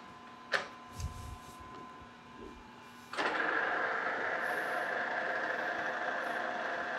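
A lathe turns a large cast iron wheel at reduced speed, a sharp knock followed after a few seconds by a steady, fairly loud broadband cutting hiss with a ringing tone that holds to the end.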